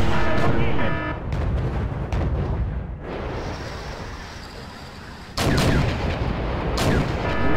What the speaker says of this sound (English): He hits me with some more rocket artillery.